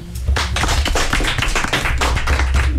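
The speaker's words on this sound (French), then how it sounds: "Est-ce qu'on peut l'applaudir?" Children in a classroom clap for a classmate's answer during a youth radio journalism workshop, a short burst of close, dense, irregular clapping heard alone.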